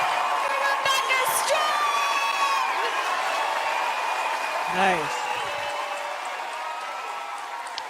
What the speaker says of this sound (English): they're not cheering for me